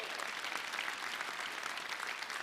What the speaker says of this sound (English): please, a round of applause for Mayor Adams.